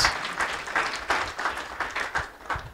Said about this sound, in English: I think that deserves a round of applause, even though Pieter doesn't want it.